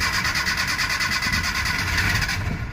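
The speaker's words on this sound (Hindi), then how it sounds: "मतलब हल्की सी रेस पकड़ती है फिर बंद हो जाती है।" A Maruti Omni van engine with a cold-morning starting fault cranks and catches into a brief rough rev, running unsteadily for a couple of seconds before dying away.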